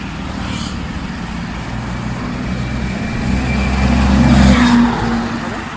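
Small vehicles from a basic electronics lab project run along a track, giving a steady motor whir and rumble that swells louder toward the end, heard alone without talk.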